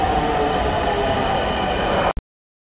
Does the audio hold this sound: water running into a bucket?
no